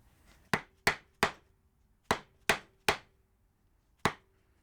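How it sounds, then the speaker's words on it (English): Seven sharp metallic taps, hammering an Akrapovic dB killer into the exhaust of a KTM Duke motorcycle, arriving in an uneven sequence with brief ringing tails in a quiet space. "Given how difficult it is to actually hammer this in"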